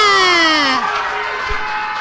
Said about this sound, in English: You hear the crowd screaming for the Ninja and the Jaguar.